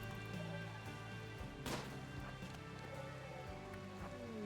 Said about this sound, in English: The rain is going to save us a lot.